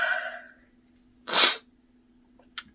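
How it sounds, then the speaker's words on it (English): A woman sneezes once, a sharp close burst preceded by a sharp intake of breath and followed by a brief sniff, in a quiet room with a faint steady hum. "I'm going to sneeze."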